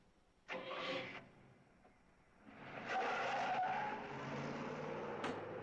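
A car driven away with its tires skidding: a short squealing burst, a pause, then a longer rising engine surge with tire screech, fairly quiet and with no voices.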